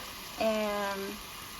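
Vegetables for borscht zazharka sizzle in a pan with tomato paste just as water is added, giving a sudden hiss and bubbling fry that settles into a steady sizzle.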